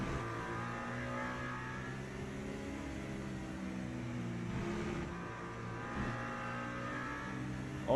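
Race car engines from the Le Mans Ultimate racing game at the Le Mans circuit drone steadily, a sustained high-revving whine with shifting harmonics that swells slightly as cars close in, with no talk over it.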